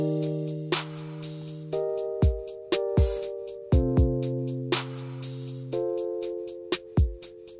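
An 808-style drum loop with kick, snare, clap, crash and hi-hats pounds out a steady beat over sustained synth notes, loud and alone without any voice.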